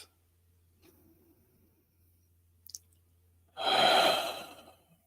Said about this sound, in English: A nice cleansing breath.